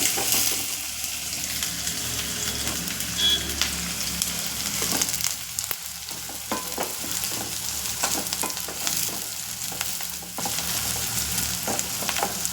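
Onions and capsicum sizzle in hot oil for cabbage manchurian, a steady close frying hiss with occasional stirring scrapes throughout.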